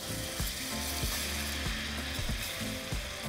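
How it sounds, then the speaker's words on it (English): A whisk scrapes rhythmically through flour and melted butter in a pan, a steady repeating metallic scratching with a faint sizzle underneath, close and continuous with no talking. "we're going to whisk in our flour"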